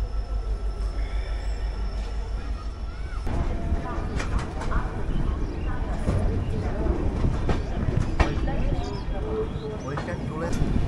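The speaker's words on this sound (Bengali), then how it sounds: "আমাদের ট্রেন কিন্তু এবার একটু একটু করে এগিয়ে যাচ্ছে" A long-distance passenger train begins to roll out of Malda Town station, with low rumble, wheel clatter and occasional squeals of steel, while people talk nearby.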